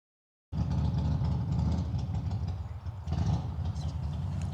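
A car idles outside with a steady, low rumbling drone that starts abruptly and continues at moderate loudness, with faint clattering and background noise over it.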